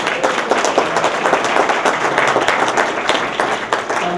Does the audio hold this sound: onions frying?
no